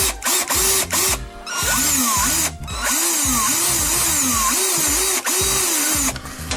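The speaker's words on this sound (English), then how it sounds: "don't use the power drill near any gas leaks or anything" A power drill whines loudly and steadily with repeated rising and falling pitch sweeps as it works, briefly stopping and restarting, with no talking over it.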